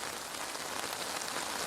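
Gentle rain on an Italian coast, a steady, soft patter of drops on surfaces, even and continuous throughout with no voices.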